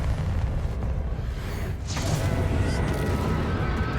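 Bombarda blasting spell cast in the Hogwarts Legacy game, a loud booming explosion with rumbling low-end and a sharp burst near the middle, continuous dense effects throughout without speech.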